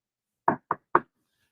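Three sharp knocks on a door, evenly spaced and close, each a short dull thud, with silence before and after.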